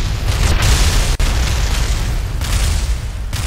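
A sustained, roaring explosion fills the whole stretch as a rocket crashes and blows up in Kerbal Space Program, loud and dense throughout with only a brief dip partway.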